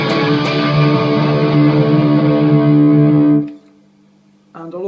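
An electric guitar played through an MXR Badass 78 distortion pedal in its overdrive setting rings out a sustained, thick distorted chord, loud and close, then cuts off and leaves a low hum before a new strum starts.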